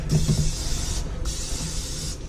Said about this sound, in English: I'm going to spray it with cooking oil so it won't stick